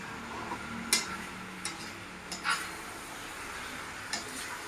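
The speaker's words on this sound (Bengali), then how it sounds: "আর ভালো করে আমি নেড়ে দিচ্ছি" Chicken curry being stirred in a pan, with a few sharp spoon scrapes and taps against the metal over a faint, steady sizzle, no talk.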